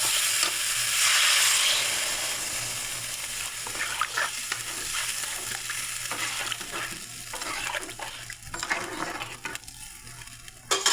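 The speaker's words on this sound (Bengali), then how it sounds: "এবার আমি জল দিয়ে দেবো।" Water goes into a pan of frying cauliflower and potato, setting off a loud burst of hissing sizzle that settles into softer bubbling with intermittent scrapes and clinks of stirring.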